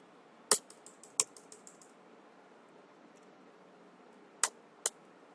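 A few scattered keystrokes on a computer keyboard, entered cell by cell in a spreadsheet, come as sharp isolated clicks, two near the start and two near the end, with quiet room tone between.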